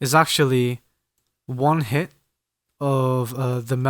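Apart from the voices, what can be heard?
No everyday noises stand out.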